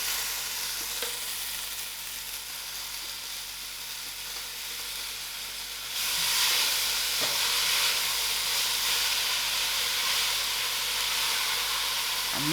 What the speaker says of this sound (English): I'll allow this to fry with the spice.